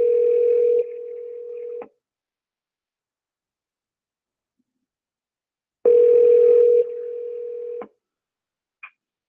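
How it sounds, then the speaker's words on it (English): Telephone dialing tones from a Google Home Mini placing a call: two loud, steady bursts of DTMF-style tones, each about two seconds long and separated by silence, followed by a brief short blip at the end. "So it knows, and it's dialing the number."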